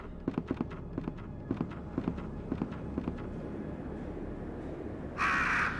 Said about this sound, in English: even if there's a group of crows there, just by walking